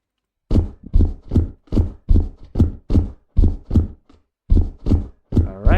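Character footstep sound effects in Unreal Engine 5, heard as a steady run of about a dozen evenly spaced, firm thudding steps, loud and close with brief gaps.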